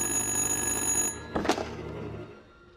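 A telephone rings in the horror video game Little Hope, with a sustained electronic ringing tone that cuts off abruptly after a sharp thunk, leaving a faint fading tail and no speech.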